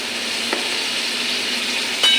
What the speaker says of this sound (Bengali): আমি সব কিছু মিশিয়ে নেই